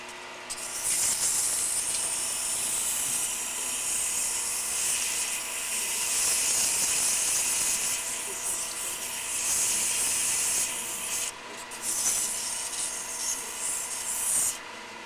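150-grit sandpaper is held against a small turned wooden ornament on a lathe, making a steady, close hissing rub. The sound runs almost without a break over a low motor drone.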